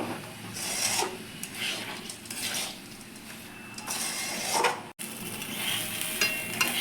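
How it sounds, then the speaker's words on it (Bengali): Basmati rice for pulao is fried in a pan, giving a dry, rasping scrape of repeated stirring over a low sizzle, near and steady, with no talk. "ভালো করে চালটাকে ভেজে নিতে হবে"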